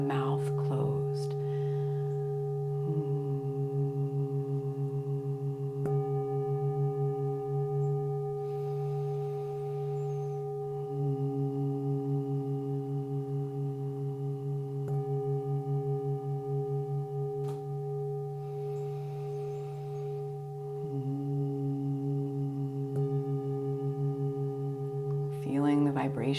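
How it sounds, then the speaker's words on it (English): A steady, low nasal hum in bee's breath breathing practice, made on the exhale with the mouth closed. It is sustained in long tones separated by short pauses for breath, close and even over a faint background tone. "as we exhale, we create a humming sound with the mouth closed"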